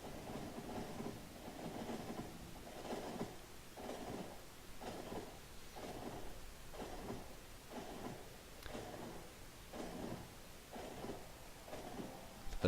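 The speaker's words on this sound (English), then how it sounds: "Let's just watch the train" A train in Factorio rolls along the track with a steady rhythmic clatter, repeating roughly every 0.8 seconds. It stays faint and even throughout, with no voices.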